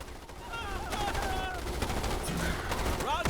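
Bursts of sniper gunfire ring out in the sci-fi strategy game Starship Troopers: Terran Command, rapid cracks under a shouted voice and game effects.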